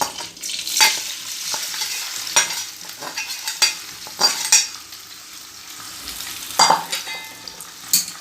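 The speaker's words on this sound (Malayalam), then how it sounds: "ഇനി അടുത്ത സെറ്റും ഇതുപോലെ തന്നെ ഫ്രൈ ചെയ്തെടുക്കാം." Prawns frying in hot oil in a pan for prawn pickle, a steady crackling sizzle close by with sharp scrapes and clinks of a stirring spoon at intervals, no voices.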